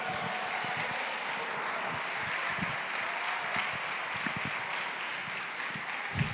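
At a large church congress, a congregation claps in a steady, distant-sounding roar of applause that holds at an even level for several seconds, with no talking over it.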